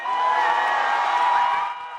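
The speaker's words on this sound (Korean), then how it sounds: "환호성이 터집니다" Supporters of Venezuelan opposition leader Machado cheer as she appears on a hotel balcony, a continuous roar of many voices with whoops and shouts from a sizable crowd at some distance, tapering slightly near the end.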